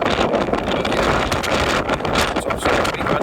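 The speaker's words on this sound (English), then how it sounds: "It's a bit windy, even eating an apple." Steady gusting wind buffets the microphone on an outdoor hillside walk to the Nine Ladies stone circle, a constant broadband roar with slight surges throughout and no clear voices.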